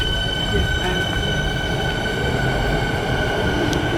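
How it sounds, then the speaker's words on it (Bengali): A train pulls away from a station in Australia, a steady low rumble with faint wheel and rail tones holding evenly throughout, fairly close and continuous with no talk over it. "আমরা মিস করে লইছি ট্রেনটা"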